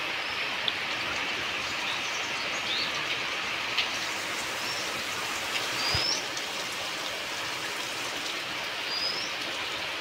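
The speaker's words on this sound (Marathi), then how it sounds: "आता मगाशी पाऊस चालू झालाय. रिमझिम चालू होतं, पण आता जरा वाढलाय पाऊस" Steady rain in a Konkan village, a drizzle that has grown heavier, hisses evenly and continuously, with a few faint bird chirps in the distance.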